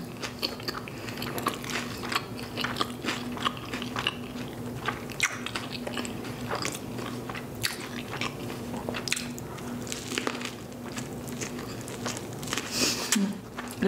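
Close-up chewing and biting of a cold, delivered Subway sandwich with olives and extra-chewy bread, wet crunches and squishy bites repeating steadily throughout, with a steady low hum behind.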